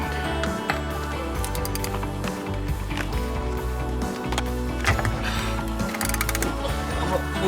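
A ratchet wrench backing bolts out of the transmission valve body on a 2006 Ford F-150, with dense, rapid metallic clicking that runs close and steady throughout and no voices over it.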